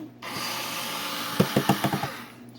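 Screwdriver backing screws out of a Bluetooth radio's casing, a row of five or six short scraping clicks close up over a steady background hiss.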